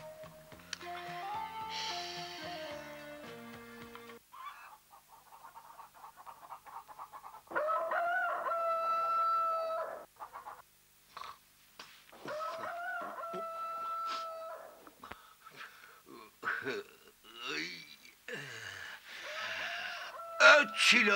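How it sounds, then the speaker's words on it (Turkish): A speckled rooster crows several times in an old Turkish film scene, the drawn-out calls set among music and voices. "Çil horozum, öt!"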